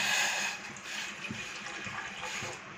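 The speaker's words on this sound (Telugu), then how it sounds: "వాటర్ వేసుకోవాలి ఫ్రెండ్స్" Water is poured from a glass into a pot on a lit gas stove, a soft, continuous splashing trickle that fades slightly after the first moment.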